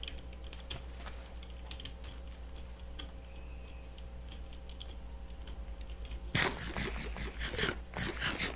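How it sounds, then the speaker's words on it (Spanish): A failing computer keyboard is typed on in quick, uneven clicking bursts close to the microphone, with a steady electrical hum beneath, and a denser flurry of louder keystrokes near the end. "Tardo mucho en escribir ahora porque de por sí el teclado ya está fallando."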